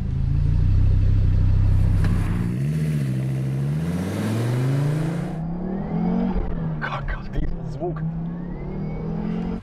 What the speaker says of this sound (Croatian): Svaki put kad stisnete gas, auto ponovo oduševi.